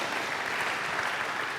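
A church congregation applauds during an online worship service, a brief, dense wash of many hands clapping at moderate distance, with no voices over it.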